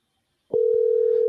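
A telephone dial tone cuts in suddenly after a brief silence, then holds as a loud, steady, unbroken hum.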